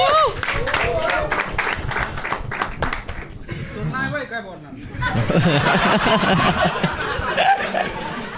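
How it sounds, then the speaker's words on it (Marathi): An audience at a Marathi comedy show claps and laughs loudly together, a continuous dense round of applause with chuckles mixed in and a voice talking over parts of it. "पुढच्या ॲक्टसाठी जोरदार टाळ्या झाल्या पाहिजे फॉर मुकुल म्युझिक MK"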